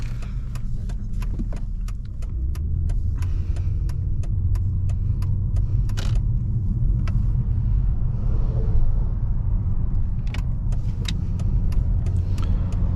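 A 2011 Mercedes S550 pulls away with a steady, smooth engine hum and road rumble, heard from inside the car, with scattered light clicks and rattles over the drone.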